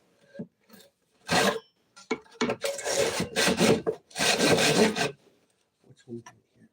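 Wood being sawn slowly, with a few bursts of rough rasping strokes of varying length separated by pauses, close by, with faint knocks and handling noises between strokes and no talking.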